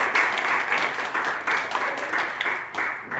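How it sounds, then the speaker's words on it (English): Audience applause for a presenter at a public workshop, a steady burst of many hands clapping close and loud, with pulsing swells across the crowd and no talk over it. "Let's give him another round of applause"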